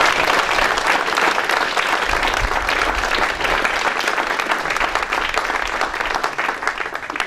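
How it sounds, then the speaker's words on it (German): Loud, sustained audience applause filling the room at a civic gathering in Salzkotten, a thick continuous crackle of many hands clapping at even intensity throughout. "das ist nochmal ein ganz, ganz dicken Applaus wert"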